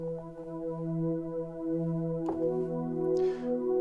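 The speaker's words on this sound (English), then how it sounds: "And a pad sound sounds like this," A soft, sustained synth pad holds smooth layered tones, with a brief noisy swell partway through; no talking.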